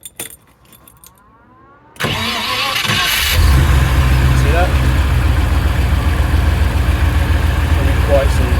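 A Series Land Rover engine, fitted with a rebuilt high-ratio transfer box, starts after a quiet moment and then runs steadily at a close, loud idle, with someone speaking briefly near the start.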